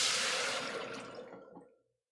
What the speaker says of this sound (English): Take your water, dump it in. It's going to make a hilarious noise.